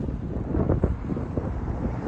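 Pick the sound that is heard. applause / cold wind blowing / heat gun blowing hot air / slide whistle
cold wind blowing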